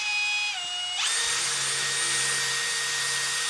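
A power drill whines loudly and bores into a whiskey barrel, the motor's pitch rising sharply as it spins up and then holding a steady, high, close-up drone.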